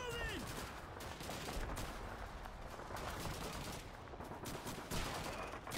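Rapid gunfire from a Call of Duty 2 D-Day battle at Pointe du Hoc, with dense overlapping shots and bursts running steadily throughout the game scene.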